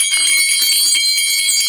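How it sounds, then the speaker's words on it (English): Bright, steady jingling of a brass sleigh bell rings out loud and close, with shimmering metallic overtones throughout. "It sounds like it is a sleigh bell."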